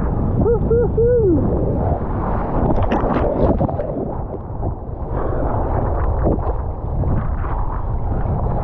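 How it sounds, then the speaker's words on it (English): Strong gale wind buffeting a microphone on a beach, loud roaring gusts that rise and fall continuously, with a brief whooping voice near the start. "Wow, that wind!"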